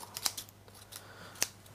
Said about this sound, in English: Now what I do is get a long pair of scissors